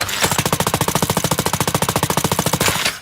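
A game Gatling gun firing one continuous rapid stream of evenly spaced shots for nearly three seconds, loud and close, spinning up fast at the start and cutting off cleanly at the end.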